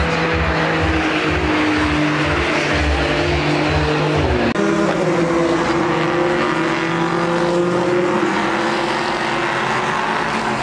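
A Porsche race car roars past at Spa-Francorchamps during an ELMS four-hour race, loud and close, its engine note rising then dropping sharply around mid-pass before fading into a sustained, steady engine drone.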